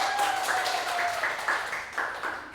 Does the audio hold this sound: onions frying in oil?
no